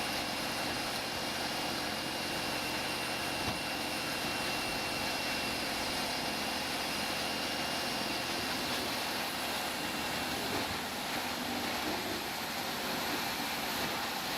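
A Vermeer HG 6000 stump grinder runs through forestry or land-clearing work, a dense continuous roar with broad hiss that holds steady and loud for the whole stretch, with no voices.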